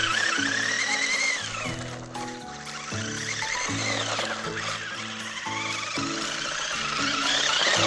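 An RC Grasshopper buggy on off-road tires spins out, its electric motor whining and sweeping up and down in pitch over steady background music, loud and continuous throughout.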